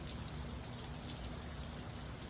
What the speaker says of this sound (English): I am so happy to see the rain.